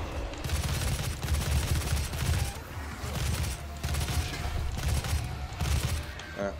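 Continuous rapid gunfire in the video game Doom, a dense, steady stream of loud shots with brief pauses, close and alone with no talk.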